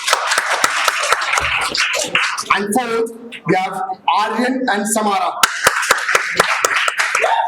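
Applause from a debate-final audience, scattered sharp claps at the start and end with an announcer speaking in the middle.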